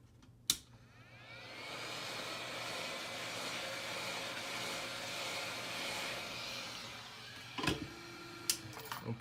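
A heat gun warming the side of a Samsung Galaxy phone, a faint, steady airy blowing that swells in after a sharp click and holds, followed by a few handling knocks near the end.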